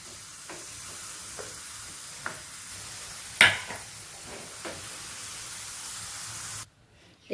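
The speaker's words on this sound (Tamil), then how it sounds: "திருப்பி நம்ம இன்னொரு வாட்டி இதை பொரிக்கணும்." A soft, steady sizzle of potatoes for French fries frying in hot oil, with a few light clinks and stirs, cutting off near the end.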